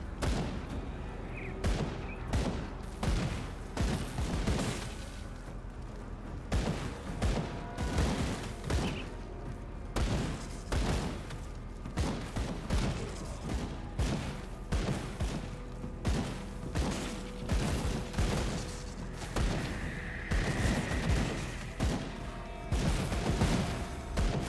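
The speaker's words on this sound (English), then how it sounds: "Oh, someone's shooting." Rapid volleys of gunfire from the action game Grim Dawn, loud and sustained with bursts of shots and booming impacts repeating steadily throughout, no talking over it.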